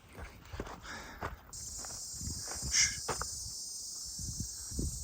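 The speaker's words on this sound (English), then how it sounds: "That is a wild noise of a cicada, I think." A cicada in a tree near the Grand Canyon starts a loud, sustained, high buzzing drone partway through, steady and close, over crunching footsteps on a trail.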